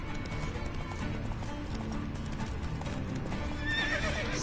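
The horse Roach in The Witcher 3 whinnies near the end over continuous clip-clopping hooves. The hoofbeats are steady and close, with game ambience underneath.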